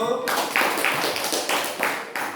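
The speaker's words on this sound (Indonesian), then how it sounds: "kita tepuk tangan untuk kelompok 1." A school class claps for a student group after its presentation, a few loud bursts of clapping and taps in uneven rhythm, close by, with short gaps between.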